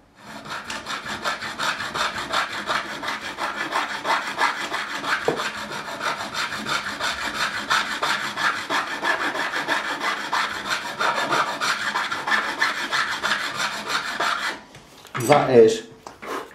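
Continuous rhythmic rasping of a file working down frets on a Fender Japan Stratocaster during a setup, steady close strokes lasting over a dozen seconds before a brief different sound at the end.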